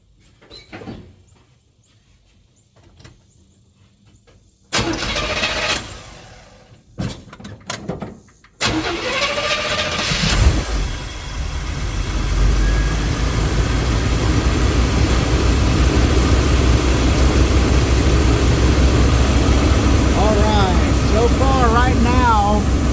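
A Chevy C10 square-body small block with an Edelbrock carburetor cranks after some door and handling clatter, then catches and settles into a steady, loud idle up close, with a voice heard early on.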